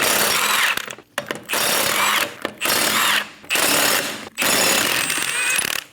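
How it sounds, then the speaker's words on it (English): Lug nuts being removed with a 21mm socket on an impact wrench during rear shock absorber replacement on a 2008-2015 Scion xB, four loud, close bursts of rattling hammering separated by short pauses. "Using a 21mm socket, remove the 5 lug nuts."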